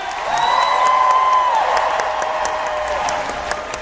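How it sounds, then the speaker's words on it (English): A large convention panel audience applauds steadily for singers, a dense wash of clapping with a few cheers mixed in, holding strong throughout. "Big round of applause for our singers,"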